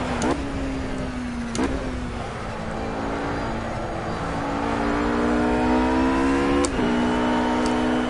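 Race car engine in Project Cars during a time trial, short shifting: a loud close whine that climbs steadily, with abrupt drops at gear changes around every few seconds and layered harmonic tones.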